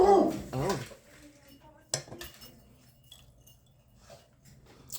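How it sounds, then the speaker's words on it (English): A pet dog barks a couple of times in a home during dinner, a loud close burst at the start and a shorter yelp later, with light dish and cutlery clinks around it. "let's just wait for him to stop barking."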